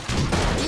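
A short volley of gunfire, dense overlapping shots rolling together in one loud sustained burst, no voices.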